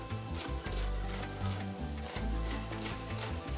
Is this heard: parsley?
yes